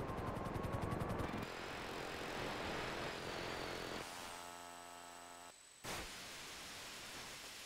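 Helicopter in the video game GTA 5, its steady rotor drone loud and continuous, joined by a sustained high engine whine and a brief pulsing rotor chop near the middle.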